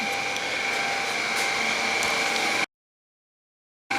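A refrigerator compressor running after its relay was replaced, a steady, fairly loud mechanical hum with a constant tone that cuts out suddenly, leaving a stretch of silence before it resumes.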